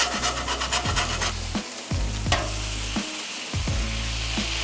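Smash burger patties sizzling on a Blackstone griddle while a metal spatula scrapes crust off the flat-top in repeated rasping strokes, close and loud over a continuous frying hiss, with no talk.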